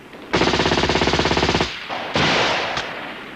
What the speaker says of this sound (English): they've been fired on by a mixed force of